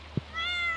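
A cat meows in the Stardew Valley video game, one short soft game meow followed by a faint rising tonal chime.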